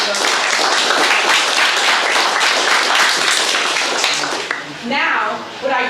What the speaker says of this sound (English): Let's have one more round of applause for those.